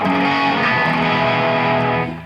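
A distorted hollowbody electric guitar strums sustained, crunchy power chords, loud and close, ringing steadily before fading at the end.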